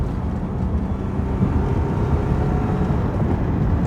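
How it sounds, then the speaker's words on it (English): A Lexus car engine holds steady at about half throttle, a continuous low rumbling drone heard close up with no talking over it. "This is like almost half throttle,"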